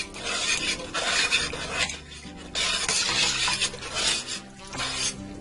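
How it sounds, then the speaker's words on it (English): Hamburger cabbage stew stirred in a pot, a steady scraping, rasping swish of the spoon against the pot in repeated strokes, close and fairly loud with no talk. "Stir that up."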